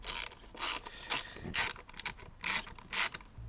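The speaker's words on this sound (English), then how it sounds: "now we need to come underneath and undo these 4 bolts" A hand ratchet clicks in short, rhythmic bursts as it undoes bolts underneath the tail of a Suzuki GSX-8S motorcycle, with about six close, crisp spells of clicking separated by brief pauses.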